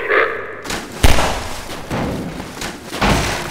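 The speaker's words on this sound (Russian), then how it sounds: "Вот они опять взрывают." Explosions in the video game Half-Life 2, a few loud close booming thuds at irregular intervals with decaying rumbles between them.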